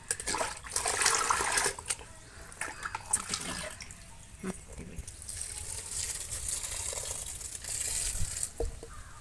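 Water pours and splashes steadily for several seconds onto potted jasmine plants, like a stream from a can or hose hitting soil and leaves, with a voice speaking faintly underneath.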